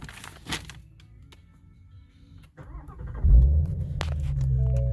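Ford Mustang Shelby GT350 heard from inside the cabin with the windows up: quiet at first, then a deep engine rumble surges in and holds, a steady, fairly loud low drone.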